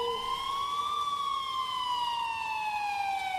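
A single police siren wails from a distance, its tone sliding slowly up and then gently down over a low, steady background hum.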